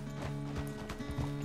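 Horse hooves clip-clop at a steady walking rhythm in Red Dead Redemption II, moderately close, with a low sustained hum and occasional faint snorts beneath.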